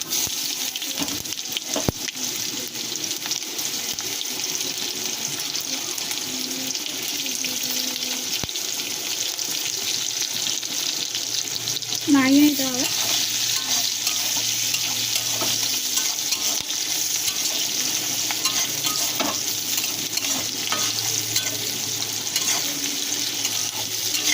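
Chopped onions fry in hot mustard oil left from frying fish, with five-spice seeds, a continuous crackling sizzle, and a short clink or stir sounds midway.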